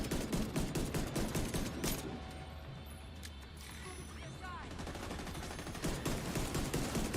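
Rapid gunfire in The Division 2, a steady dense stream of shots carrying through the whole stretch at moderate loudness, with no clear gaps between reports.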